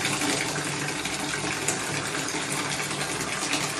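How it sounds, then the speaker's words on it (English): Hot water gushes steadily from a household tap in Mexico, a loud continuous rushing stream with no talking. "You only have to turn the hot water tap a little."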